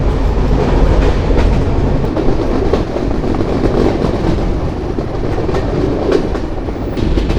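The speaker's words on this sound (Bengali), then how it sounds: "বিশাল টানা টানলো ট্রেন" The Sagardari Express, an intercity train, runs on broad gauge rails. From inside, there is a loud, continuous rumble with clattering wheel beats and no voices.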